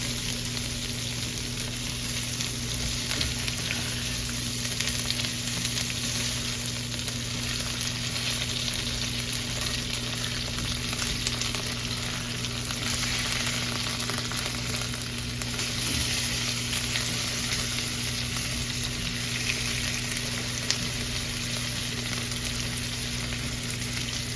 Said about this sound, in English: so now I'm just going to flip them, and as you can see, the crust stuck to the top